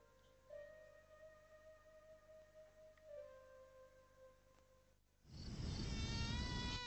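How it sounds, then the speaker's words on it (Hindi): A mosquito buzzes with a thin, high, faint whine that wavers for several seconds. A sudden loud burst of noise then cuts in. "ये मच्छर अपने साथ लाएं डेंगू और मलेरिया जैसी खतरनाक भी"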